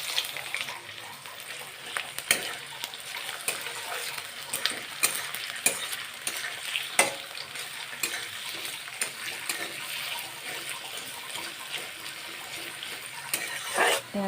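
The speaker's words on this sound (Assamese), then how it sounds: "এতিয়া পিঁয়াজ আৰু জলকীয়াখিনি দি দিওঁ। তেল গৰম হৈ গ'ল।" Onions and green chillies hit hot oil in a wok and sizzle steadily, with a spoon scraping and stirring at intervals over the continuous frying hiss.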